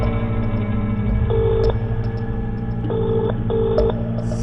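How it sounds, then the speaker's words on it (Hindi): A phone call dialed on speakerphone during a crime drama, with several electronic ring-back tones repeating over a steady background hum. "चल बबीता को फोन लगा और उससे पूछ के कहाँ है वो इस वक्त"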